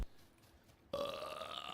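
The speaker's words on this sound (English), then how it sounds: "that belch reminds me" A single loud, drawn-out belch follows a brief quiet stretch and lasts until the end, close and heard alone with no talk.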